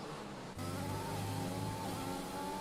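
A racing car in a video game sweeps past another using DRS at the Belgium circuit, a loud, steady engine drone that surges up abruptly and holds at high pitch, no voices over it.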